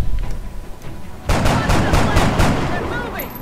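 Soldiers open fire in the turn-based strategy game XCOM: Enemy Within, a rapid burst of loud gunshots that cracks in at once after a quiet start and keeps rattling as repeated sharp shots, with faint voice and game sounds underneath.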